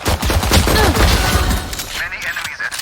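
Pistol fire in a tactical shooter round, dense cracking shots in the first half under game voice callouts, then fading into quieter ambient tones.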